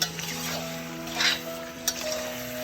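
Duck curry with added nuts being stirred in a pan without oil, a soft scraping stir with a light sizzle running underneath and a couple of brief utensil clinks, close and steady.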